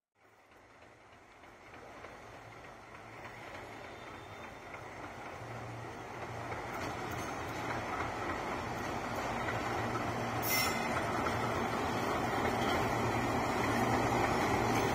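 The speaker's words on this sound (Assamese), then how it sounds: "এই ৰঙাপাৰা ৰেলৱে ইঞ্জিন এটা পাৰ হৈ গৈছে।" A railway engine passes at Rangapara, its rumble and rattle of wheels swelling steadily from quiet to a loud, continuous roar, with a brief high squeal near the end and no talk.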